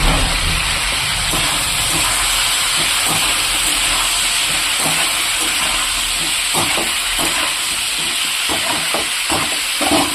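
Continuous loud hissing sizzle of food frying with turmeric in a covered pan, steady for the whole stretch with faint crackles, no talking.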